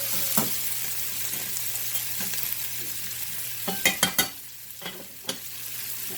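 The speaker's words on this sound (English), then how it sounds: "I'm going to give my rice another stir." A spoon scrapes and knocks against a pot while stirring cooking rice, several sharp clanks clustered together over a soft, steady background sizzle, with no voices.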